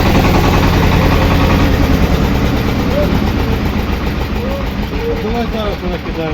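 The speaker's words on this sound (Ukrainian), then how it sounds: "Тракторець у нас маленький." A small tractor hauling a potato planter runs steadily with a loud, low, continuous engine drone up close, and people talk over it.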